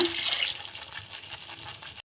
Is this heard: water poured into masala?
yes